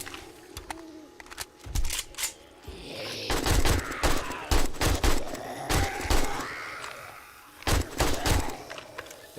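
Gunfire in 7 Days to Die during a horde night, repeated sharp shots in irregular bursts and clusters, loud and close, with growls and other game sounds between them.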